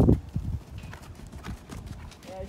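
A horse cantering in an arena, hooves clip-clopping in a quick irregular rhythm, with a strong thud at the start, a brief neigh-like sound and people talking faintly underneath.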